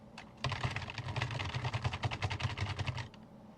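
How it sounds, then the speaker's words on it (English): Rapid, steady typing on a mechanical keyboard, with clacky keystrokes close by and no voices. "you can tell the keyboard is a bit clacky, considering it's a mechanical keyboard"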